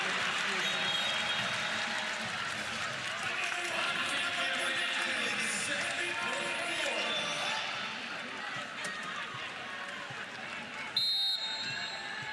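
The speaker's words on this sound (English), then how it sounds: "Crowd on their feet." A volleyball crowd at a Florida vs Florida State match cheers and applauds steadily at set point, a broad sustained roar with a commentator talking over it and a brief buzzer-like tone near the end.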